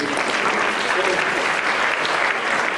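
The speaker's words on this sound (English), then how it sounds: "give yourselves a round of applause" Steady, dense applause from an audience at a 25th anniversary celebration fills the moment continuously at close range.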